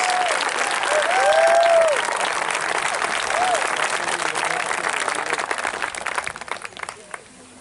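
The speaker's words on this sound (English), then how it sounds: "Let's give a big round of applause to our parents and our guardians who are here today" A high school graduation audience applauds parents and guardians with sustained, dense clapping from a large crowd that swells early and then thins gradually toward the end.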